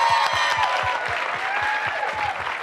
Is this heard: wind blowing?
no